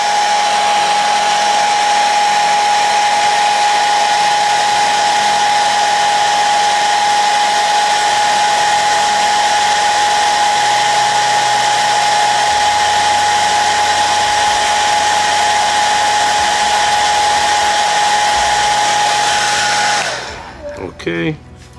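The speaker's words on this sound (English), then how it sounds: "Now I'm going to use the hairdryer again. Put a nice amount of heat on it." Hair dryer blowing hot air onto a Ferrari 488 Pista model car part, a loud steady whine with a fixed tone that runs for about twenty seconds and then cuts off, with some quiet talk beneath it.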